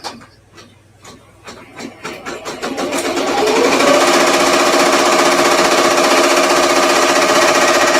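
An embroidery machine stitches a lace applique onto a shirt, first ticking in slow, accelerating strokes, then settling into a loud, steady, fast mechanical whir close by.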